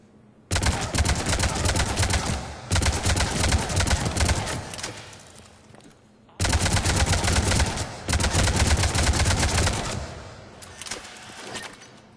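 Avenger assault rifle fire in Mass Effect 3 comes in two long, loud full-auto runs, each broken by a brief gap, with rapid close cracks and a short pause in the middle.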